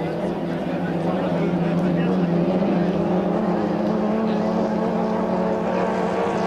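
2.5-litre racing boats in a regatta heat on a lake circuit: a loud, continuous engine drone holding a steady pitch throughout, with a commentator talking over it.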